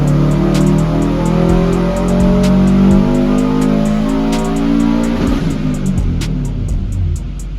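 Subaru WRX STI engine with a dyno tune making 300 wheel horsepower, running loud and close, revs climbing in steady sweeps before easing off.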